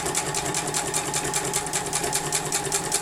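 A sewing machine does free motion quilting, its needle running in a fast, steady, even rattle that stays close and loud throughout with no talking.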